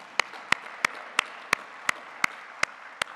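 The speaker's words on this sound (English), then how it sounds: "let's applaud that." Sparse, evenly spaced single claps at an MIT Alumni Association event, about one every third of a second, crisp and moderately close with no voices.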